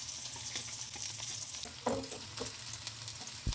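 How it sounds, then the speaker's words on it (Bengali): Chopped onion, garlic and green chili are stirred in hot oil with whole cumin seeds, giving a steady soft sizzle with a few scraping stirs near the end. "কিছুটা তেল গরম করে কিছুটা গোটা জিরা ফোড়ন দিয়ে একে একে পেঁয়াজ কুচি, রসুন কুচি, কাঁচামরিচ কুচি দিয়ে নাড়তে হবে"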